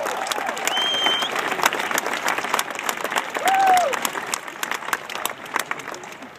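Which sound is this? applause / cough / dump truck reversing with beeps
applause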